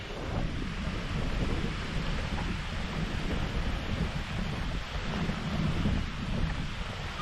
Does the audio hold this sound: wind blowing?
yes